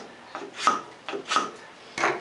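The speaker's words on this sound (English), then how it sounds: "It's amazing how much that scraper takes off and leaves such a pristine surface" A hand scraper shaves wood from a tenon in three short rasping strokes, each a close, dry scrape with a slight squeak, spaced evenly about half a second apart, with no talking.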